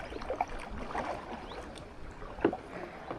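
Kayak paddle strokes on the River Thames at Radcot: soft splashes and dips in the water at irregular intervals over faint wind and flowing water, with no voices.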